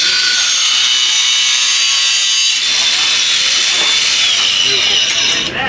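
A saw cutting porcelain tile during a demo on a builders' trade show floor, a loud continuous abrasive grinding whine that shifts in tone midway as the blade bites into the tile.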